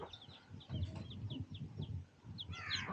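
A mother hen on a village farm clucks in short, repeated low calls while chicks cheep in thin high peeps above her, fairly faint and close.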